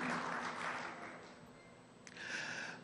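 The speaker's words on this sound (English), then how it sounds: "another applause for all the brave men and women of DOST-STII" An audience at an anniversary celebration for a government science agency applauds, the clapping swelling, easing off midway, then rising again briefly.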